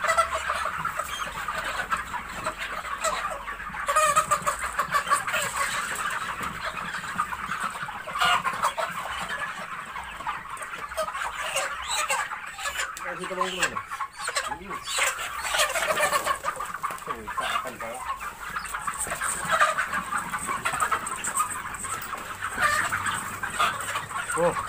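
Red mother hens cluck steadily on a chicken farm, a dense chorus of overlapping clucks and occasional louder calls throughout, with a little background talk.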